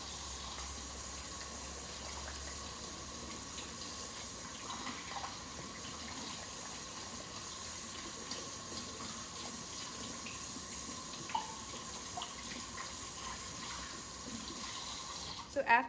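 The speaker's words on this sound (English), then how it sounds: "you're just going to scrub your hands for at least 20 seconds" Tap water runs steadily as hands are scrubbed at a sink before baking, a constant faucet hiss under faint background sound with a small clatter at the very end.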